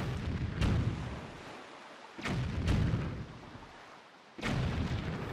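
Cannon fire in the video game Zelda Wind Waker HD, three heavy booming blasts a couple of seconds apart, each with a rumbling tail, no talk over them.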